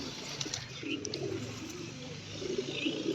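Pigeons cooing in a steady low murmur at close range, several birds overlapping throughout, with faint background noise.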